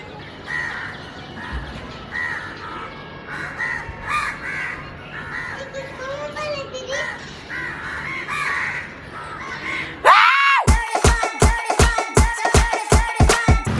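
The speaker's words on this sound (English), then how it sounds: "I'm waiting for the crows to shut the fuck up" Several crows caw loudly and close in a rapid, evenly spaced run of harsh calls, following a stretch of mixed outdoor bird chatter and background noise.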